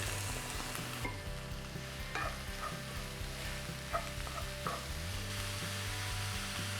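Small-chopped onions fry in hot oil for a chilli egg bonda, a steady soft sizzle punctuated by rhythmic scraping as a spatula stirs them, with a low hum running underneath.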